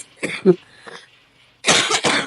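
Close, loud coughing from one person: a pair of quick coughs and a small one, a brief pause, then a harsher burst of two or three hacking coughs.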